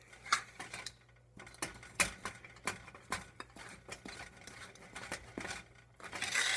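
Big spoon working thick oatmeal cookie dough in a bowl, faint irregular scraping and thudding strokes in an uneven rhythm, close by with no talking.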